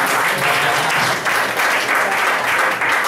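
An indoor audience claps steadily for a presenter named Pak Agus, a dense, loud round of applause that holds throughout.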